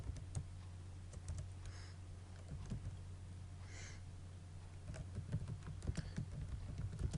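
Typing on a computer keyboard while writing HTML and CSS code, a rapid irregular patter of close key presses that speeds up and clusters toward the end, over a low steady hum.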